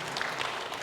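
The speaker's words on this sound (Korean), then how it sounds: "박수 한번 부탁드립니다." Brief burst of applause from a church congregation during a Sunday service, soft and somewhat distant, lasting under a second with no talk over it.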